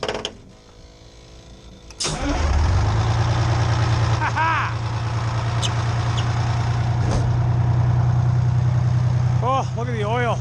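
An old, dirty two-stroke engine starts up and settles into a loud, steady running drone that continues to the end, with a person talking over it.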